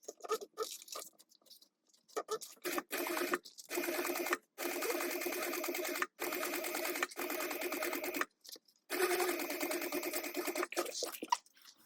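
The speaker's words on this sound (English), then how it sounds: "Now we're going to stitch that together with a 1/4 inch seam allowance." A sewing machine stitches a quarter-inch seam in bursts of rapid mechanical whirring, stopping and starting several times with short pauses between runs.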